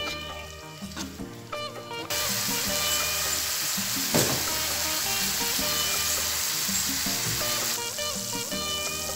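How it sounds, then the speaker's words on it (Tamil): Coconut milk fish curry for meen pollichathu bubbling in a pan, a steady close sizzle and simmer with light stirring and no talk. "கொஞ்சம் இதில் கொதிக்கட்டும்."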